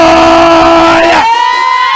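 A church congregation shouts and cheers loudly with sustained yells and whoops. One raised voice holds a high tone that slides upward near the end.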